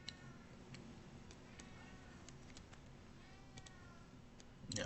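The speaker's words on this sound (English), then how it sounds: "that's my cat" A house cat gives a couple of short, faint meows near the start and middle against a very quiet room with soft ticking, and no speech.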